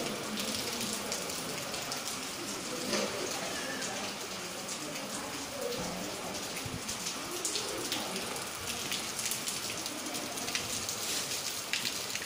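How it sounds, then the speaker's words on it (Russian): Steady rain pours down outdoors on a rainy morning at a mountain resort, a continuous dense hiss with scattered drops on surfaces, loud and unbroken throughout, with faint voices now and then. "А дождь продолжает лупить."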